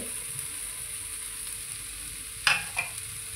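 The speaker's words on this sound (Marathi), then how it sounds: "कांदा आणि टोमॅटो चांगला तळलेला आहे." Onion and tomato frying in a pan with chili added, a steady close sizzle with a couple of brief stirring scrapes near the end.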